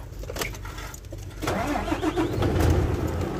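An Isuzu Wingvan 12-wheeler truck engine cranks briefly and then catches, settling into a loud, steady diesel rumble that runs close by to the end.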